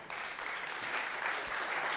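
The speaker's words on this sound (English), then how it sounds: "Please let's give a warm applause to Peter Todd" Applause from a conference audience, steady and dense throughout with many hands clapping together at close to moderate distance, no voices on top.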